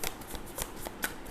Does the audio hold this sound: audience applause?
no